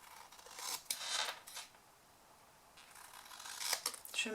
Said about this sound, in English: So I'm just going to pop that onto there, and then I can just cut that bit